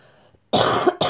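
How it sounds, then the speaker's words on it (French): A man gives a loud, harsh cough made of two close, forceful bursts, right after a short stretch of quiet talking. "Excusez-moi de ma toux."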